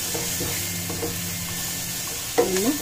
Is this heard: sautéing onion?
yes